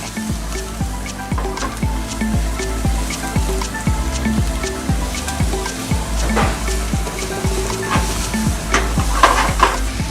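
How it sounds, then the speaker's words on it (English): Rice frying in a pan gives a steady sizzle, while a spoon or spatula scrapes and stirs in a quick, regular rhythm of clacks throughout, close and fairly loud, with no talking. "frying the rice"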